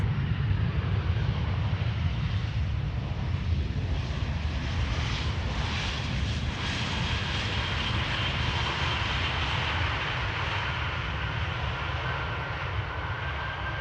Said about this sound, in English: Olympic Winter Games special livery, A320.